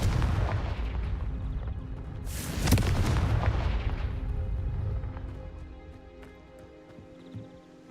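A Confringo fire spell bursts with a loud explosive boom in the video game Hogwarts Legacy, a sharp blast near the middle followed by a rumbling roar that slowly fades away.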